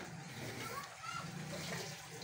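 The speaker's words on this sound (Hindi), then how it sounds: "और इसमें हम थोड़ा सा पानी ऐड करेंगे" Water poured into a pot of beef and bottle gourd curry, a steady splashing pour running under someone talking throughout.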